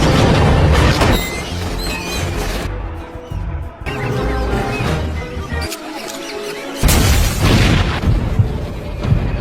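A series of loud booms and crashing blasts roll through a busy, dense film soundtrack for Wanted (2008), with a brief quieter pause before another heavy burst near the end.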